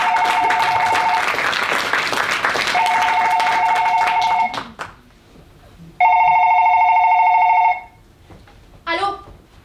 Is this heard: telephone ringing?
yes